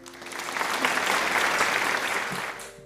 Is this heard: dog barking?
no